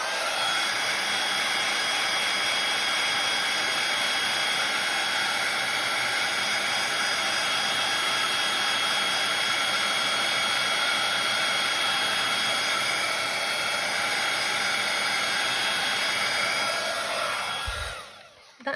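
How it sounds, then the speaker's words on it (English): A heat tool blows hot air steadily over stamped silver card, a loud continuous whooshing roar with no talk, running almost the whole time before cutting off near the end. "So I'm just going to give it a bit of a whiz with my heat tool."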